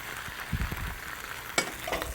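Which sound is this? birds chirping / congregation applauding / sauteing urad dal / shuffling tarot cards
sauteing urad dal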